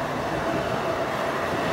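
Passing train droning continuously in the background, a constant rumbling wash with a faint tonal hum, steady and unbroken, with no one talking.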